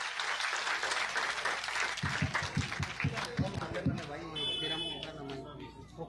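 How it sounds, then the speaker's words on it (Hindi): A crowd at a political rally in a village applauds to welcome a speaker, clapping heard under and between loud amplified speech, with rhythmic thumps and a tonal beep partway through. "जोरदार तालियों के साथ एक बार इनका स्वागत करें।"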